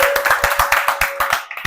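Audience clapping to welcome a speaker on stage, heard as a quick, steady rhythm of sharp claps, fairly close and even in loudness, with a faint steady tone running underneath.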